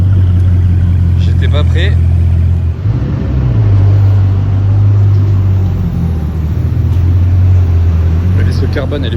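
A Bugatti Chiron Sport supercar engine drones in a steady low rumble, dips briefly, then swells again as the car drives, with a voice speaking over it throughout.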